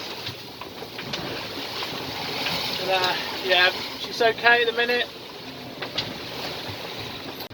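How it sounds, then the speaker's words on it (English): A sailboat beating hard into the wind through confused swell and waves in the North Channel off the Mull of Kintyre, giving a steady wash of wind and water noise under close talk. "There's quite a lot of swell and the waves are from all different directions."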